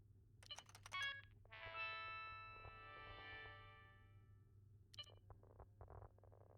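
Phone tones in the video game Shadows of Doubt: a quick burst of clipped beeps gives way to a long, clean electronic ringing tone, and then more short button blips follow, all over a steady low hum with no one talking.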